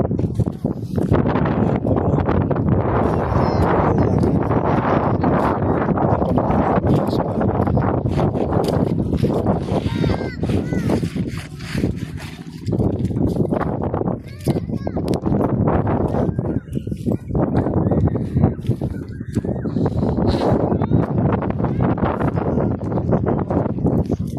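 Strong wind on Olango Island in Cebu buffets the microphone in gusty, roaring bursts for the whole stretch, loud and rumbling, with muffled voices partly buried beneath it.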